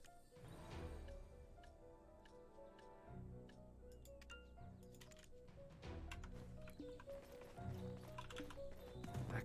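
Rhythmic hoofbeats of a galloping horse in Black Desert Online, steady clip-clop over layered game music and effects, with ticking sounds throughout.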